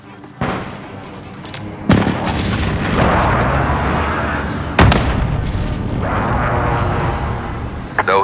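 Artillery strike explosions in the video game Warzone: several heavy booms and sharp blasts, two standing out loudly, over a constant rumbling bed of battle noise, with brief voice chatter in the background.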